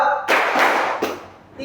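A classroom group claps a counted rhythm in a micro-teaching lesson: two dense bursts of many hands, the first long and the second short, with voices faintly around them.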